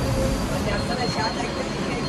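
Steady rumbling roar of a moving train from inside a carriage, constant and loud throughout, with no clear voices.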